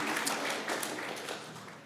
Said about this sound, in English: Another round of applause for Ubie, really quick